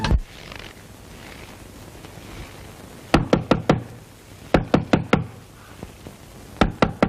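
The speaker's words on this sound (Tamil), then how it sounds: "யாரு இந்த நேரத்துல கொல்லப்புற கதவு தட்டுறது?" Sharp knocks on a back door at night, in three loud close bursts of four or five quick raps each, separated by stretches of quiet room hum.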